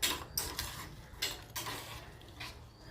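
A spoon scrapes and knocks repeatedly against a pan while kadakni mixture is stirred, giving a steady series of close metallic scrapes and taps with no talking.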